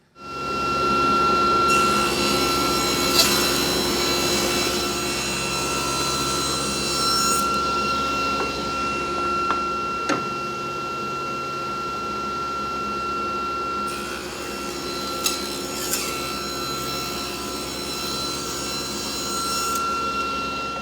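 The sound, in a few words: saw cutting walnut strips with ThinRip guide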